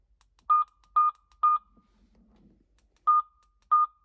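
A Midland MXT275 two-way radio installed in a Bronco gives five short, sharp, loud beeps while switching channels. Three come in quick succession, then after a low rustle two more follow, spaced apart.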